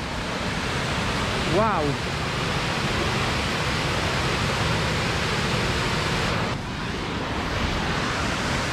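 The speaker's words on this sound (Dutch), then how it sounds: "Oh, hier heb je die waterval, hè?" A waterfall in Spa roars as a steady, dense rush of falling water that fills the whole scene, with a brief exclamation from a person and a short whistling chirp over it.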